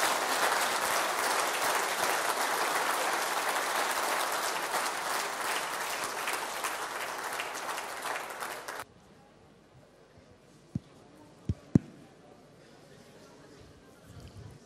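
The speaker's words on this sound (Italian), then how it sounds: "io direi di fare comunque un grande applauso a queste persone" A conference audience claps in a loud, sustained burst that stops abruptly, followed by near quiet with a few sharp knocks.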